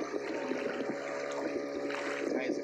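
The Sekayam River in Sanggau, West Kalimantan, flows with a steady, soft rushing and trickling wash, continuous and fairly faint throughout.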